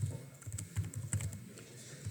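Quick, uneven keystrokes patter on a computer keyboard nearby, soft clicks arriving in short bursts with brief pauses, no voices.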